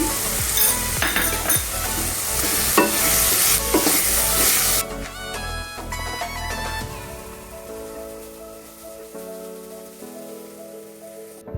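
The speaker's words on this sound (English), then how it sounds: "the spices which I was sauteing in the cooking pan" Spices sautéing in a cooking pan give a dense, loud, close sizzle with stirring scrapes for several seconds, then a quieter fizzing tail, no talking.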